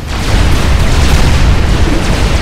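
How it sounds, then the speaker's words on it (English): A loud, sustained rumbling blast fills the whole stretch, an explosion in the strategy video game Supreme Commander: Forged Alliance, dense and roaring without breaks or speech. "Such a pretty explosion."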